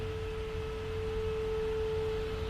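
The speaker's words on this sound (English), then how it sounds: "I can even turn my saw into a sine" A Roland synthesizer's sawtooth wave is filtered down to a pure sine, leaving a steady, unwavering tone that holds alone at an even level, with a low hum underneath.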